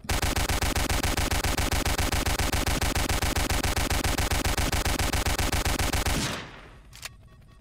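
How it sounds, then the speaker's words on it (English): Rapid automatic gunfire from a Roblox prison game, a loud, steady stream of shots lasting about six seconds before cutting off abruptly into quiet. "Oh, we're gonna shoot it down."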